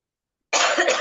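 An unwell elderly man coughs once, close and harsh, in a single burst lasting about half a second after a moment of silence.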